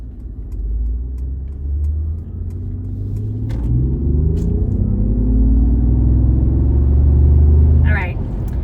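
A 2025 Mercedes-Benz G 580 electric G-Wagen accelerates with a rising, rumbling drone that swells steadily for several seconds under road noise, with a short voice near the end.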